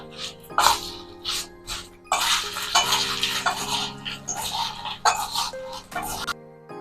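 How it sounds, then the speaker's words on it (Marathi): A spoon stirs and scrapes through varai chiwda ingredients in a metal pan, with irregular clinks and scraping strokes separated by short pauses, and a voice talks over the stirring. "आता आपण सर्व जिन्नस व्यवस्थित चमच्याने मिक्स करून घेऊया"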